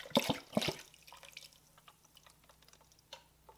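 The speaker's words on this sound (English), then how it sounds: "organic Great Value reduced sodium chicken broth is going to be going into the" Organic reduced-sodium chicken broth pours into a cooking pot in two short splashing gulps, followed by faint dripping and trickling sounds.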